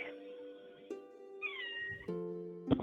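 A cat lets out several short, clear meows in a row, each rising and falling in pitch, close to the listener in a quiet room.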